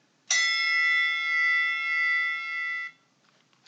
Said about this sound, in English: There will be a bell sound when you can pause.